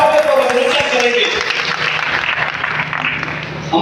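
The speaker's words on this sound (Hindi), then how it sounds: "तालियां बजा करके हृदय से स्वागत और अभिनंदन करेंगे" Booth party workers at a political gathering applaud in welcome, a dense crowd clapping that carries on throughout with talk over it.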